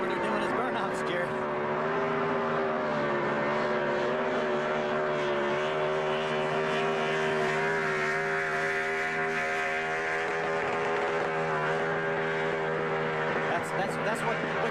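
A NASCAR Craftsman Series pickup race truck revving near 9,200 RPM during victory burnouts, a sustained high-pitched engine scream with shifting tones, loud over a cheering crowd, with a commentator talking.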